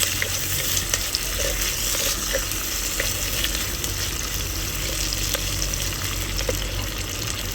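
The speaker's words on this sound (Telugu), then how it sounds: "ఉల్లిపాయలు కొంచెం వేగాలి, పచ్చి వాసన కాదు." Onions fry in a pan for a brinjal, mango and dry fish curry, making a loud, dense, continuous sizzle with occasional small crackles, heard close up throughout.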